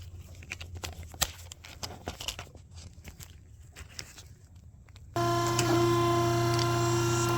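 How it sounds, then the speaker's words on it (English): A surface grinder starts up about two-thirds through and runs with a loud, steady, tonal whine while grinding a tapered machine gib, after a stretch of scattered clicks and shop handling noises. "Then I'll put it up on my grinder and do one pass, or grind it until I get the whole thing cleaned up"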